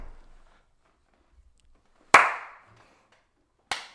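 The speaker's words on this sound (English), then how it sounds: "You are getting a slow clap for that one." A slow clap rings out in a quiet room, with two sharp, isolated hand claps about a second and a half apart, each followed by a brief ring of room echo.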